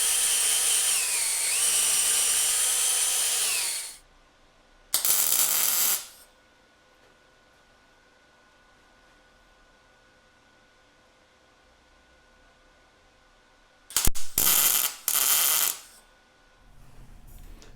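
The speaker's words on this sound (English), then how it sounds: "I'm going to drill a couple holes in this outrigger for some plug welds." A power drill whines loudly as it bores holes into a steel outrigger for several seconds, then shorter bursts of drilling follow after a quiet pause.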